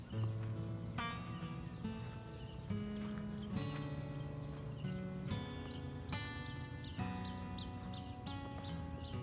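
Crickets chirp in rapid, steady pulses in a morning garden, alongside layered tonal music, the insect trill persisting throughout at a soft, even level.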